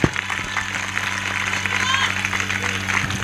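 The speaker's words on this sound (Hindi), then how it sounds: "ताली बजनी चाहिए इस बात के ऊपर।" A church congregation at a Sunday service claps together, with a mix of hand claps, crowd noise and a constant background hum.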